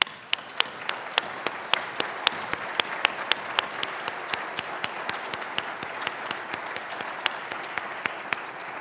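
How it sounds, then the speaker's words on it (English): A university audience at a state-of-the-university address gives a sustained round of applause, a steady wash of many hands with regular prominent claps standing out near the front. "I think you should give yourselves a round of applause"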